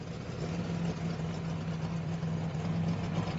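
A Chevrolet Chevelle race car with 25 years of racing behind it idles with a steady low rumble, a constant even drone without revving, close and alone.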